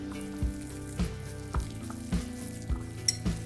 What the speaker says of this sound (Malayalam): അപ്പോൾ ഇതെല്ലാം കൂടെ ഞാൻ മിക്സ് ചെയ്ത് കൊടുക്കാം